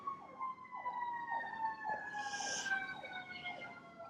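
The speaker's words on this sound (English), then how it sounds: "There's very loud sirens." Loud emergency sirens wail with rising and falling tones, overlapping and sustained throughout, with traffic rumbling underneath.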